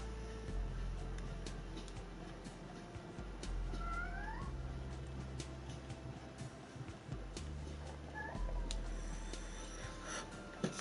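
A cat meows a few times, with rising upward wails around the middle and again near the end, moderately close over a steady low hum and faint background clatter.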